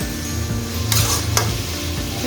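Tomatoes sautéing in a pan for Chettinad chicken gravy, a steady close sizzle with a couple of brief louder scrapes or stirs midway, alone without talk.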